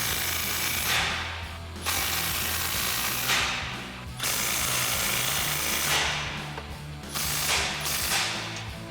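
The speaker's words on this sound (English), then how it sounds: "We'll do a final tighten down of all of our clamps." A ratchet wrench cranks down the clamps on a Ram 1500's aluminized dual exhaust system, giving three loud bursts of rapid clicking separated by short pauses, close up with no talking.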